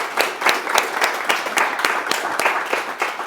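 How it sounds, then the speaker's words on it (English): A live audience breaks into applause, dense overlapping clapping that holds steady at moderate volume throughout, with a few sharper individual claps standing out near the front. "I think they need a round of applause for me."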